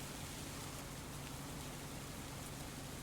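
Steady rain in Farming Simulator 25, a continuous even hiss of falling drops on surfaces with no break, moderately quiet and heard alone with no talk.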